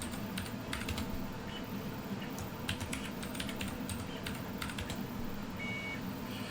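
Password being typed on a computer keyboard, a run of light, irregular key clicks in quick bursts against a quiet room hum.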